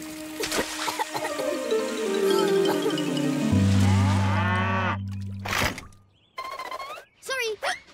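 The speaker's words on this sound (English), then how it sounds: "Sorry. Cows," Cartoon cows moo in a children's animated train show, a few drawn-out lowing calls sliding downward and overlapping, fairly loud, with voices and bright effects around them.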